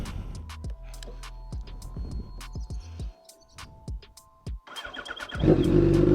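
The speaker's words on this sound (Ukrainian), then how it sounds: "сідаємо на мотоцикл, заводимо його і їдемо кататися" A Yamaha FZ8N motorcycle, with several short clicks and thumps of cranking and handling at first. The engine then catches near the end and swells into a loud, steady idle close by.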